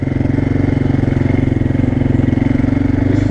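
An ATV quad's engine idles close by, its steady low rhythmic chug and pulse holding unchanged for a few seconds with no voices.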